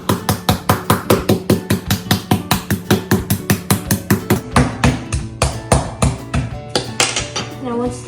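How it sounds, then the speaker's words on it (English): A spiked meat hammer pounds raw chicken in a steady, rapid series of loud, close thuds, about three blows per second, with a brief pause and then more uneven strikes toward the end. "beat the chicken."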